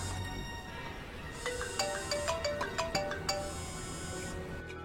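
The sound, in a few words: mobile phone ringtone ringing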